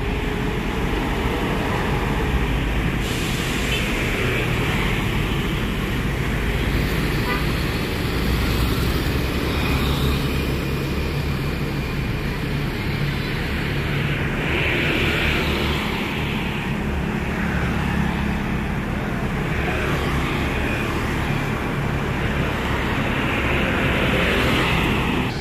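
School buses, including an Armada Indah bus, pulling away in Indonesian street traffic; a steady, loud wash of engine rumble and road noise fills the whole stretch, with passing vehicle swells and no talk.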